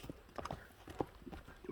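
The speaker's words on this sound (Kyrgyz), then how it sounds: "Өтө серьезный ат бул." A horse's hooves clop faintly in a few irregular steps on hard ground, quiet and somewhat distant, with no clear voices.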